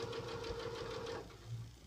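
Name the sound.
sewing machine stitching across the bottom of fabric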